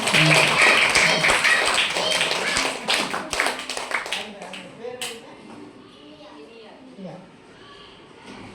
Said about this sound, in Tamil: நல்லா ஒரு கை தட்டு